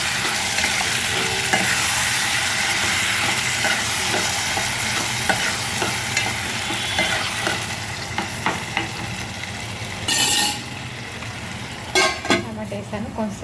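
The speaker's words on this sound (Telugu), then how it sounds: "ఇదిగోండి, టమాటా కూడా వేసేస్తున్నాను." Tomatoes go into a pan of bitter gourd curry that is frying with a steady loud sizzle, then stirring and clattering of the spoon against the pan near the end.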